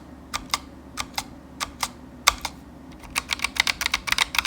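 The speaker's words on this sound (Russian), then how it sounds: "а также звук при нажатии на саму клавишу." Typing on a Keychron K1 low-profile keyboard, close and crisp, with uneven bursts of clicks that speed into a fast run of keystrokes near the end.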